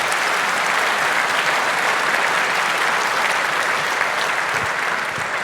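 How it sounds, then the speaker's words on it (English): Steady, dense audience applause fills a hall after a talk at the 38C3 hacker conference, loud and continuous throughout with no voices over it. "But before that, another round of applause."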